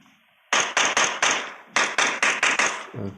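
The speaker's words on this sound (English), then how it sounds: "Some more shots are fired by Kawachu towards the building." Rapid bursts of video game gunfire in two tight volleys, about four sharp cracks then five more, loud and close, firing toward a building in a competitive shooter match.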